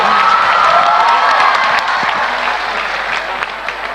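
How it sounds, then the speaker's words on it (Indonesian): Audience applause at an Indonesian motivational talk, a dense, steady wash of clapping with a few cheers that stays loud and fairly close for the whole stretch, easing slightly toward the end. "Berikan tepuk tangan"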